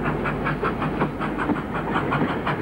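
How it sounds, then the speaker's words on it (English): A model train runs on PECO track across a layout, giving a steady close rolling rumble with a fast, even clickety-clack of wheels over rail joints and no voices. "our train is now approaching Manning Wharf."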